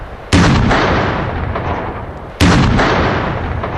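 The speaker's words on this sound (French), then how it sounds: "Vous entendez le bruit de l'explosion." Controlled demolition blasts destroying a German WWII concrete anti-landing block on the beach at Saint-Jouin-Bruneval during a mine-clearing operation: two loud, sharp booms about two seconds apart, each followed by a long rumbling decay.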